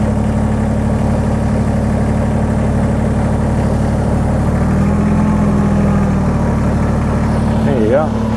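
A Kubota BX23S tractor engine idling at a set 1500 RPM, a steady low droning hum with even vibration that holds throughout, with a voice speaking over it.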